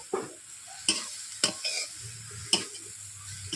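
Drumstick leaves frying in oil in a wok, stirred in a few sharp scraping strokes over a soft steady sizzle, close up and without speech.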